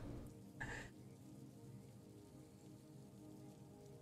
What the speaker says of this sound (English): The sounds of the rain disappearing as you make your way into the building.